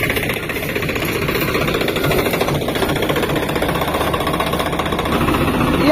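Tractor engine running steadily for paddy threshing in a village, a loud, close, continuous rumbling drone with a rattling vibration.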